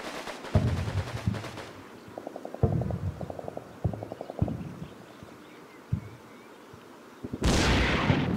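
Gunfire in the wartime strategy game Combat Mission: rapid bursts of small-arms and machine-gun fire rattle in short volleys, fairly faint and spaced out. A louder burst of noise comes near the end.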